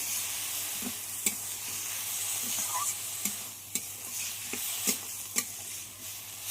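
Bitter gourd being stir-fried with spice paste in a pan, a steady low sizzle with scattered sharp clicks and scrapes of a spatula stirring at irregular intervals, close and moderately quiet, no talking.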